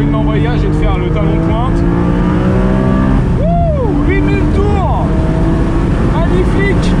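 A 2019 Porsche 718 Spyder with a 420 hp engine is driven hard on narrow, bumpy Scottish roads and revs to 8000 rpm. The engine is loud and close throughout, its pitch sweeping up and dropping through rapid gear changes.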